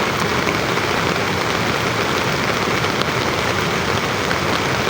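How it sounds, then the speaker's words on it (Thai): Dense, steady rushing of floodwater after heavy overnight rain near Vang Vieng, Laos, a broad continuous roar of flowing water with no pauses and no voices. "น้ำไหลตรงนี้เนาะหลังจากที่ฝนตกเมื่อคืนนี้"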